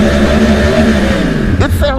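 Yamaha R1 sport motorcycle engine revving loudly and steadily up close, a deep continuous drone with a rising rev near the end as someone talks over it.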